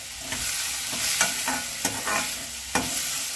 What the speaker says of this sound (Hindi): देखिए इस तरह से चलाते हुए टमाटर को हम थोड़ी देर के लिए भून लेंगे।